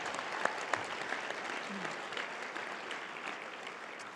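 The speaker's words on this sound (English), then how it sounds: "Let's give a round of applause for all of our Mountain Ridge Middle School winners." Applause for middle school girls' sports award winners at a luncheon, a steady wash of clapping from a seated crowd throughout.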